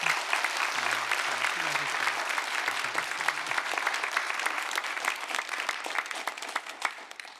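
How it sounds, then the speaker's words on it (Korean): A church congregation applauds steadily and warmly at an anniversary founding Sunday service, a dense, sustained clapping that holds level before thinning slightly toward the end, with a faint low voice or tone beneath early on. "여러분들 큰 박수로 받아주시고."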